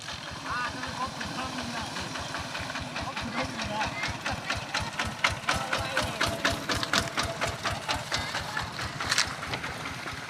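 A tractor engine runs steadily at a rural spot where fish and crabs are being caught, its chugging beats pulsing rhythmically throughout, with people talking over the engine.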